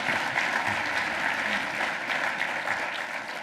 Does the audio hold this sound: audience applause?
yes